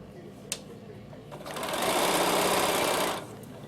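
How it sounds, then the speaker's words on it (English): A sewing machine runs a normal straight stitch along a zip for a garment bag, starting after a click and whirring steadily for about a second and a half before stopping, close and fairly loud. "Sew down, and you're just a normal straight stitch"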